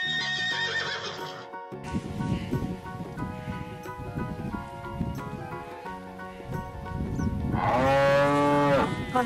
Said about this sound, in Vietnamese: Con bò kéo cây rất khỏe.